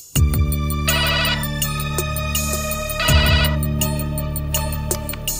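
Telephone ringtone for an incoming call in a Hindi comedy scene, a loud repeating electronic melody in bursts with short gaps, sounding alone and close with no talk over it.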